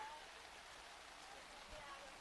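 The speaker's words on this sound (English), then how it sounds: "Rain hardening again." Rain coming down harder at an outdoor high school softball game, a steady, even hiss of falling water throughout, faint and distant-sounding with no clear voices over it.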